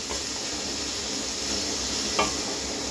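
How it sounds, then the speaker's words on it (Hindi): Chicken pieces fry lightly in a little oil, giving a soft, even sizzle with a faint stir or clink partway through. "हल्का से इसको फ्राई करना, तकरीबन हमें 4-5 मिनट इसको फ्राई करना"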